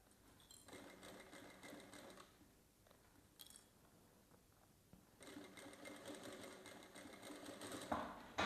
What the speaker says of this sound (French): Et on coud au bord du tissu.